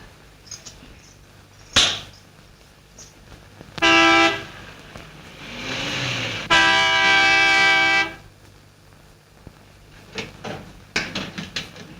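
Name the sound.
car horn honking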